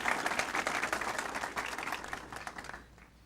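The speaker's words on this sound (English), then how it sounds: "A round of applause for Troop 66, Boy Scout Troop 66." Audience applause at a town address ceremony, honoring Boy Scout Troop 66; dense clapping at moderate level, fading slightly toward the end of the short burst.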